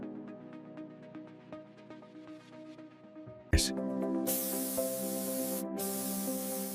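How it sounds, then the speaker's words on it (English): Paint robots spray the base color onto a metro train body in a factory: a sharp burst, then a steady, loud hiss of atomized spray holding over background music with a brief break near the end. "Synchronized robots ensure an even, consistent coat of paint."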